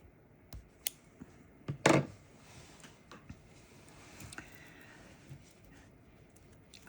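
Scissors cut the cord of a traditional beaded net cover for a glass float. A few quiet snips are followed by one sharper, louder cut, close and otherwise quiet.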